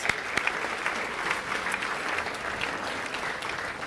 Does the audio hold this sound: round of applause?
yes